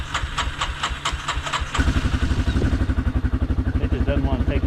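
Small engine of a cheap ATV catching after a start on half choke, first sputtering with uneven bursts, then settling into a loud, rapid, steady idle putter up close.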